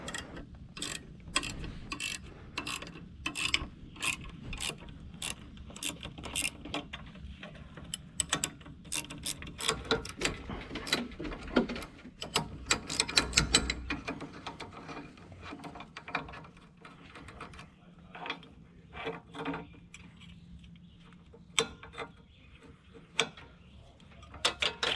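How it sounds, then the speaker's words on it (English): A wrench working a 9/16 nut loose on a Bobcat T190 loader, giving quick bursts of ratcheting clicks up close, then pausing before sparser clicks and taps, quiet and without speech. "grab a wrench and get that nut backed off"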